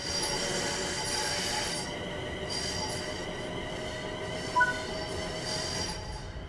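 A Class 350 electric train's motors whine and squeal with layered tones in Train Sim World 5, the pitch shifting as it slowly picks up speed, smooth and continuous.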